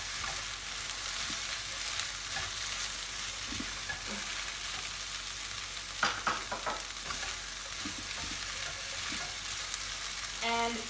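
Garlic and black beans fry in a hot pan with a steady broadband sizzle, punctuated by a few sharp stirring scrapes and clatters near the middle, no voices.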